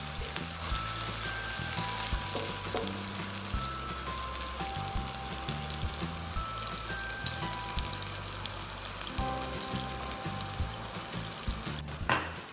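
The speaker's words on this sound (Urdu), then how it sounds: "ٹماٹر ڈالنے کے بعد ہم اسے اب 2 سے 3 منٹ مزید پکائیں گے" Chopped tomato fries with brain masala in a pan, a steady close sizzle crackling throughout, with music playing over it.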